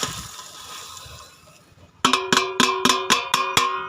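A pumpkin preparation is pounded in a mortar with a pestle: after a couple of seconds of faint background noise, about seven loud, ringing metallic thuds follow in a steady rhythm, close by.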